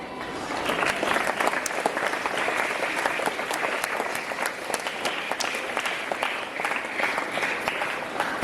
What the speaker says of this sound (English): It's time to give a hearty welcome to our Reverend Father Manager and our Vice Principal with a thunderous applause.